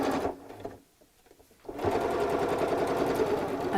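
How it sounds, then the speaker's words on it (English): A sewing machine stitches the seam of a bolster cushion in a quick, steady run, pausing briefly before whirring on again, close and alone. "So that's it with the sewing machine."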